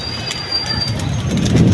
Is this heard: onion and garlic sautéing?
no